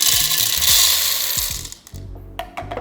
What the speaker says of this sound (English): we'll go ahead and put it into our grinder.